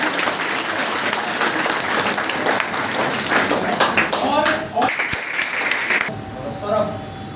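Students at an exam coaching session clap continuously and loudly, a dense wash of applause with some voices underneath, dropping away abruptly near the end as speech takes over.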